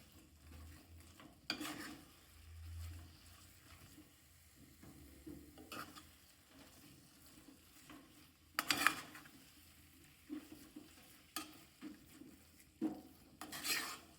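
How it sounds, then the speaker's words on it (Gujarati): Potato shiro stirred in ghee in a pan with a spatula: faint scraping and stirring strokes with occasional clinks of the utensil against the pan over a low sizzle, close and quiet, no talk. "તો મિત્રો આપણે હલાવતા જ રહીશું શીરો"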